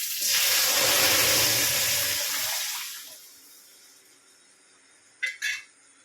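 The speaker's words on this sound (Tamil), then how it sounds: "மிளகா போட்டுக்கலாம். கருவேப்பிலை போட்டுக்கலாம். பருப்பு ஊற்றிக்கலாம்." Dal is poured into a hot tempering of chillies and curry leaves, setting off a loud sizzling hiss that slowly dies away, followed by two short clinks near the end.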